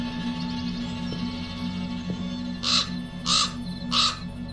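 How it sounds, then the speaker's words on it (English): In the video game Black Mirror 2, a raven caws three times in a steady rhythm over a constant ambient hum as it flies out of a crack in the rock. "The raven flew out of a crack in the rock."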